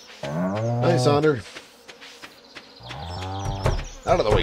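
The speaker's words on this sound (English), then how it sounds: "Out of the way, cow." A farm cow in Stardew Valley lets out two drawn-out moos with a pause between them, fairly close and clear, along with small game sound effects.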